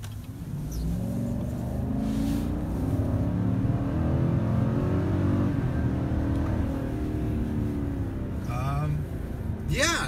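A 2019 GMC Sierra Denali pickup with a 6.2-liter engine accelerates hard, its engine note climbing steadily in a loud, continuous drone heard from inside the cab for about ten seconds.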